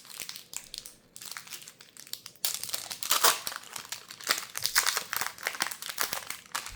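A foil collector booster pack wrapper is crinkled and torn open by hand, giving close, continuous crackling and crumpling with sharper tearing bursts and no voices.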